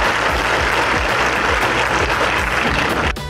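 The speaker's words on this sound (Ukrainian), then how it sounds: "Рухівці зустріли оплесками." Stadium crowd of nearly three thousand football fans claps for the team in Lviv, a loud, dense, continuous applause that cuts off near the end.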